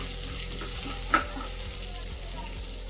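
Green chillies and peanuts sizzle in hot tempering oil while being sautéed for a poha topping, giving a soft, steady frying hiss with a few light stirring scrapes and small pops.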